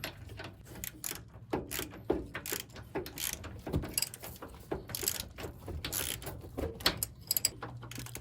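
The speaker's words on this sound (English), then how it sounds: "Now I'm just going to use 2 wrenches to tighten this on." Upper control arm bolts on a car are tightened with two wrenches, producing a close, busy run of metallic ratcheting clicks and clinks in irregular bursts.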